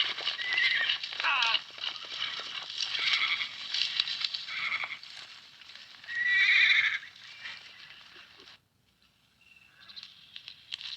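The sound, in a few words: horses neighing and hooves clopping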